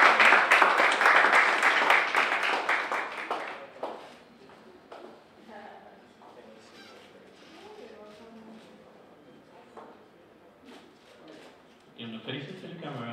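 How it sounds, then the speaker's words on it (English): An audience at a live media fellowship exhibition applauds loudly, dense clapping for several seconds that then fades into scattered claps and murmuring, with a brief burst of noise near the end. "A round of applause."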